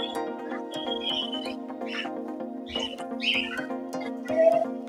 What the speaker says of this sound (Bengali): এখানে কিছু পাখি আছে